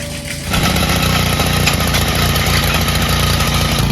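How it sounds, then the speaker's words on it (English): A small petrol rototiller engine in a backyard jumps from a low idle to a loud, steady full-throttle roar and keeps running evenly close by, with no speech. "Just turn it to the on switch, pull it like a lawnmower, put it on full throttle, press the clutch, and now we rototiller."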